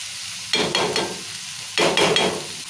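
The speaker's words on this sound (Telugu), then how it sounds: "ఇప్పుడు టమాటా వేసి ఇలా కలుపుకుంటున్నాము" Chopped tomatoes are stirred into amaranth leaf curry in an oily pan, two distinct scraping stirs with sizzling bursts over a low background sizzle, close up with no talk.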